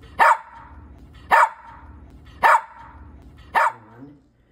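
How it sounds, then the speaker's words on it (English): A dog left alone barks four times, loud and close, the sharp barks evenly spaced about a second apart, with faint low growling between them and a quieter whine after the last. "The barking, which is a scream,"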